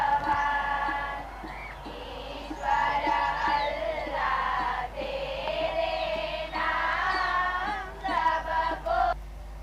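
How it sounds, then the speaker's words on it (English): An excited crowd fills Motera Stadium with swelling cheers and shouts that come in waves, fairly distant and moderately loud, rising and dipping over several seconds. "Motera Stadium is abuzz with excitement"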